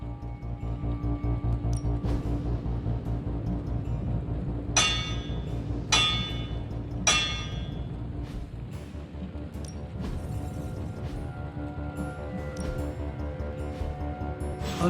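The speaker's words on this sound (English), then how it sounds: "I'll hit this thing with the big hammer" A big hammer strikes an object in Marvel's Midnight Suns, three loud metallic clanging impacts spaced about a second apart over a humming ambient backdrop, with lighter clinks later.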